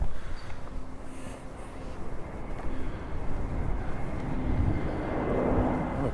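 An airplane's engines rumble at a distance, a low broad roar that slowly grows louder as the aircraft comes in to land at Ciudad Jardin, Palma, Mallorca.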